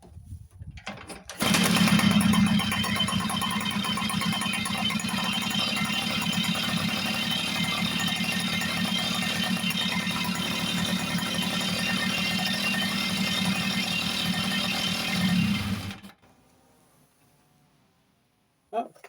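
A Tomos A35 vintage moped engine with an Airsal kit and freshly fitted piston rings fires up and runs with a loud, steady buzzing idle for about fourteen seconds, then cuts off into near silence.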